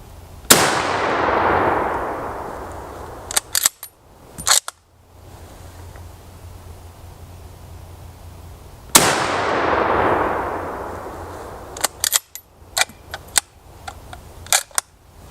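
An Enfield No.4 Mk1 .303 British sporterized rifle fires two loud shots about eight seconds apart, each followed by a long fading outdoor echo, with sharp metallic bolt clacks and clicks between and after the shots.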